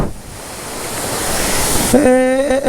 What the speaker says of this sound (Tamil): இப்போவே நம்ம பார்த்தீங்கன்னா தண்ணியில் அழகாக அப்படி காலை வச்சு சாரல் அடிக்குதுங்க, அப்படியே சாரல் அடிக்குது